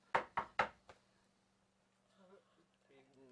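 Three sharp knocks on wood in quick succession, then a fourth softer one, followed by quiet speech.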